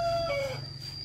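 Chickens wandering through a rural home vegetable garden give a brief call with a falling tone, close by and heard over a low background without talk.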